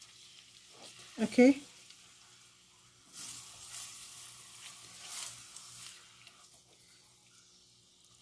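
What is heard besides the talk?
carrot oil gently stirred and cooking on a low heat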